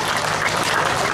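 An audience at a Balinese comedy performance claps in a dense, steady round of applause, loud and close, with no voices standing out.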